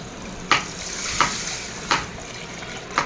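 Spices for rasam temper in hot oil in a home kitchen, giving a steady close sizzle. Four sharp stirring clinks land at roughly even intervals.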